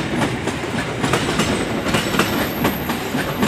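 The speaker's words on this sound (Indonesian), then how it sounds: "parcel lepas stasiun Cicalengka" A parcel train pulls out of Cicalengka station in Indonesia, a loud, continuous rumble with rhythmic clickety-clack of wheels over rail joints.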